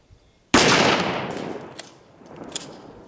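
A shotgun fires a one-ounce rifled slug at a brake rotor outdoors, one sudden loud close blast followed by a long rolling echo and small clinks as it fades.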